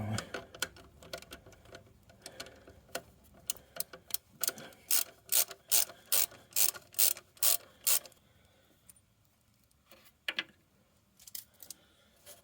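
A ratchet wrench clicks in rapid bursts while removing bolts on a 1994 Jaguar XJS V12, with sparse clicks at first, then a run of loud, regular ratcheting strokes, a pause, and two final clicks, close up.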